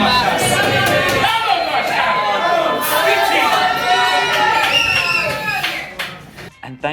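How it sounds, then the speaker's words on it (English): A lively, supportive crowd at a pie and mash eating contest cheers and chatters steadily in a dense, close-up babble of many voices, with shouts rising over the din before the noise thins out at the end. "You can hear the crowd who was so supportive of all of us taking part"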